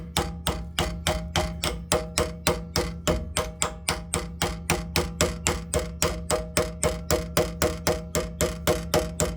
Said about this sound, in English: if you're nice enough with a metal hammer, you can tap it in and just go nicely all around